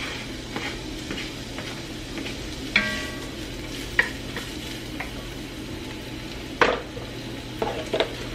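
Diced onion frying in hot oil in a Dutch oven, a steady close sizzle with scattered sharp clinks and scrapes of a utensil stirring against the pot.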